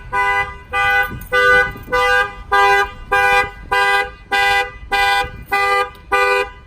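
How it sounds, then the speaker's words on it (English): A car alarm, a 2019 Clifford 3105X system triggered by banging on a window, blares in loud, evenly spaced honking bursts, about ten repeated tones in a steady rhythm close by. "Any banging around the windows, it will fire off the alarm."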